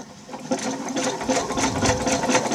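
A zig-zag sewing machine stitching a button onto a coat runs in a fast, even rhythmic chatter of needle strokes, close and loud, building slightly after a quieter start.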